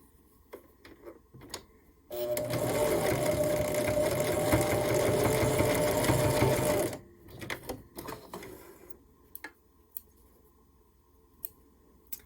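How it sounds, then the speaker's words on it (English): A sewing machine stitches through all the layers of a micro mini Christmas tree quilt made quilt-as-you-go. A steady mechanical whir runs for about five seconds, framed by quiet handling clicks and taps of fabric before and after. "as you're sewing, you're actually quilting the project as well. So you're sewing through all of the layers at the same time"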